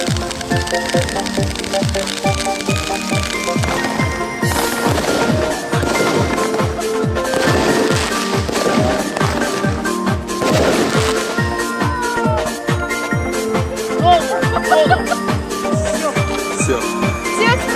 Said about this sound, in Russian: А мы сейчас пойдем зажигать праздничный фейерверк.